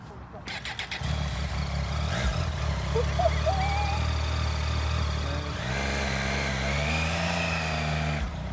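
A brand new Triumph Tiger 800 motorcycle fires up and idles with a steady mid-range engine hum, then revs higher as it pulls away, while people talk nearby.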